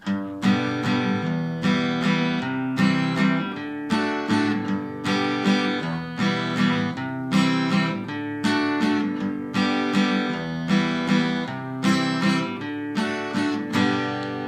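Steady rhythmic strumming on an acoustic guitar, bright chords repeating in an even pattern, close and alone with no talking.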